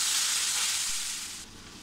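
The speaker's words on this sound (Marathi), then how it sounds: "एवढा इतपत येईपर्यंत आपल्याला तो कांदा परतून घ्यायचा आहे" Onions sautéing in oil for a dhaba-style paneer masala gravy, a dense close hiss of frying that eases slightly toward the end, with no voices.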